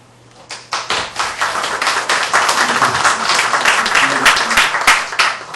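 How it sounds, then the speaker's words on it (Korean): An audience at a university development debate breaks into loud, dense applause that swells after a brief pause and holds steady for several seconds, with a voice faintly audible beneath the clapping. "총장님 말씀하시니까 박수가 또"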